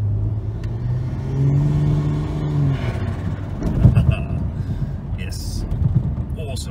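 A turbo-converted naturally aspirated Barra engine in a car gives a brief rev with exhaust rumble. A steady drone rises and falls, then a louder burst comes near the middle of the clip.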